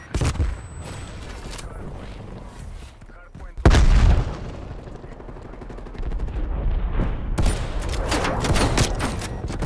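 Gunfire in Call of Duty Cold War, with sharp bursts of shots and a heavy boom near the middle over steady battle noise, and a voice talking through parts of it.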